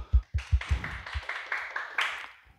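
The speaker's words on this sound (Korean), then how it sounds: "박수!" A group claps at a church youth Sunday worship service, a brief round of sharp, rhythmic hand claps that quickly blurs into looser, sustained applause and fades.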